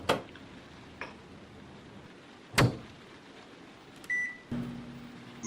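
A microwave oven runs in the game Heavy Rain, a faint steady hum broken by a few sharp clicks and a short beep partway through, with no voices.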